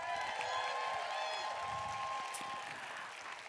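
Audience applause for vocal activist Melanie DeMore at the Othering & Belonging 2019 conference, a steady wash of many hands clapping with some cheering, sustained throughout and slowly thinning toward the end.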